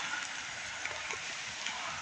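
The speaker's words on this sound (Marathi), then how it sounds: "आणि बघा पाऊस येतोय. मस्त पाऊस येतोय." Rain falls steadily over an open farm field where onions are being sown, a soft, even hiss of drops with occasional faint patters and no voices.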